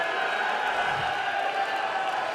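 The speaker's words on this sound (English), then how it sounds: "how about a round of applause for our DJ with the Twist the Dick fit audio?" Crowd at an Island Fights combat event applauding and cheering, a steady dense roar of clapping and voices filling the whole stretch at even loudness.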